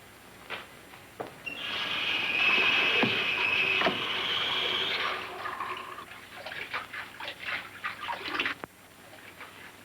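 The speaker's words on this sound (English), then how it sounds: "Go and put some cold water on your face" Water splashes and sloshes over a basin as someone washes their face with cold water in a 1939 radio mystery drama, a sustained wet wash of a few seconds followed by lighter drips and small splashes, with no talk.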